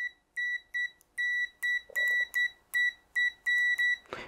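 An Aneng AN8009 digital multimeter beeps repeatedly during continuity testing, giving about ten short and longer electronic tones in an uneven rhythm as the probes touch, close and clear, ending with a brief rustle.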